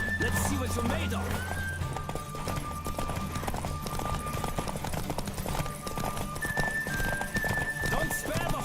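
Rapid galloping hoofbeats pound steadily under game music in The Witcher 3, with a horse whinnying and a voice calling out over the ride.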